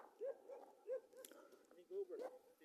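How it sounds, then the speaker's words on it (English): Dogs barking near a flood-damaged new highway at Dennehotso, several short yips and barks at a distance, faint and spaced out, with brief talk mixed in. "There's dogs coming, though."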